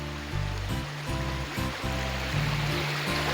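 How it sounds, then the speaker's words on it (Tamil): Strong rushing water pours through at a large lake at Koomapatti Periyeripatti, a steady broadband roar that fills the whole stretch with some tonal sound layered over it. "பயங்கரமாக தண்ணி போயிட்டு இருக்கு"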